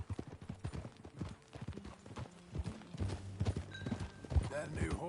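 Horse hooves clip-clop at a steady walking rhythm in the Western video game Red Dead Redemption 2, fairly faint and close, while characters talk over the steps.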